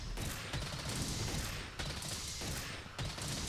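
Rapid light bowgun shots from Monster Hunter World Iceborne fire in a dense, continuous barrage, loud and close, with a few brief breaks in the volley.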